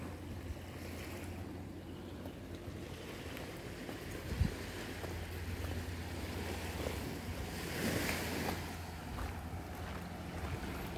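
Ocean waves wash onto a beach at Koh Phi Phi, Thailand, at sunset as the tide comes in, a steady soft surf with gentle swells and light wind, fairly faint and without speech.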